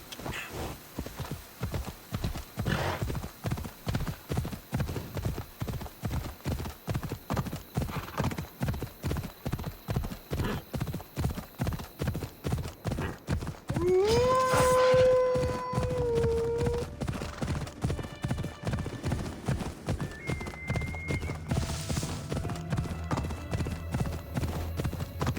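A horse gallops in the video game Assassin's Creed Odyssey, with loud, fast, even hoofbeats that continue throughout and a whinny partway through.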